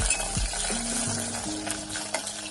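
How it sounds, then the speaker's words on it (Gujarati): Okra frying in oil over a low flame sputters and sizzles steadily up close, broken by a few utensil knocks and scrapes. No one speaks. "ધીમી આંચ પર આપણે ભીંડો ફ્રાય કરવાનું છે."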